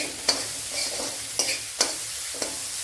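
Onion and curry leaves fry in hot oil in a pan with a soft steady sizzle, broken by a few sharp scrapes of a spoon as they are stirred, close and quiet.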